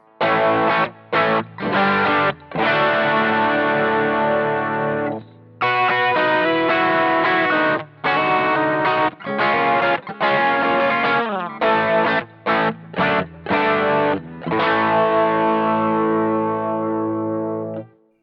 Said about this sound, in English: We can get in the chorus and we can get in the compressor again and have a listen to that